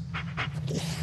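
A dog in the Blair Witch video game pants with quick, rhythmic breaths, close and steady, with no talking over it.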